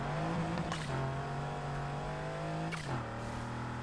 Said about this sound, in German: Ja, Turbo-Sound ist vorhanden.